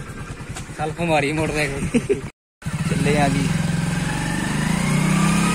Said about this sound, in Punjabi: ਮੋਟਰਸਾਈਕਲ ਨੂੰ ਕਿੱਕ ਮਾਰ ਲਈ